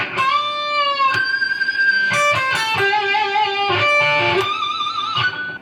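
A melodic electric guitar line from section 2 of a song's solo, a run of picked and sustained notes in steady succession, some held with vibrato, played loud and close with nobody speaking.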